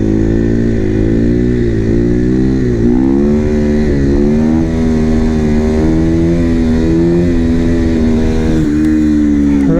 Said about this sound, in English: Revving the shit out of her